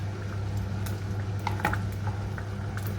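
Stock poured into a cooking pot while making a Nigerian dish, a steady liquid bubbling and sloshing with a few faint clinks of the pot, continuous and close.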